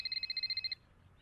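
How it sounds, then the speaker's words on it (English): Cell phone ringing in a cartoon, a rapid warbling electronic trill repeated about ten times in quick pulses for under a second, then cutting off to near silence. "Excuse me, it's a cell phone."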